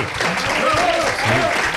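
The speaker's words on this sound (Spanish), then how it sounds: "te reciban un fuerte aplauso" An audience gives radio colleagues a loud burst of applause, steady dense clapping with voices heard through it.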